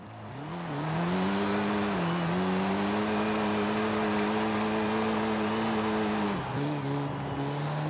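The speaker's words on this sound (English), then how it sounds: "The turbo on this car comes on very strange." Volkswagen Golf R engine with turbo in Forza Horizon 5, drift-tuned, droning steadily at high revs with a brief dip and recovery near the end, loud and continuous with no talk.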